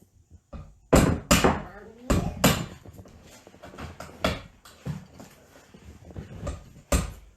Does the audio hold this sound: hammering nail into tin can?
yes